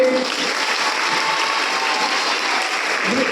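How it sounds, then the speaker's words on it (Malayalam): A room full of people at a school youth festival claps continuously, a dense, even applause that holds steady from start to finish. "ഇത്രയുള്ളൂ കയ്യടി എച്ച്എമ്മിന്"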